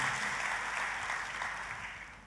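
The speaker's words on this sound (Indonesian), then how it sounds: "Tepuk tangannya pula yang paling meriah buat Tuhan kita." Church congregation applauding: a dense wash of many hands clapping together, moderately distant and fading slightly toward the end.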